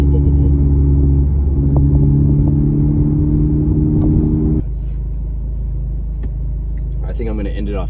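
Honda Civic Type R with an AWE exhaust, a loud deep idling rumble with a steady droning hum that drops to a lower, quieter note partway through, then a voice speaks briefly near the end.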